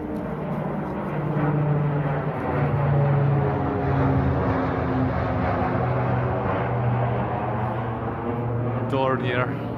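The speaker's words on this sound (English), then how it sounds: "Oh, another airplane." A Dornier propeller airplane flying overhead toward the Izu Islands above a Tokyo park on a sunny day, a sustained droning engine hum that swells and holds, with a person talking over it.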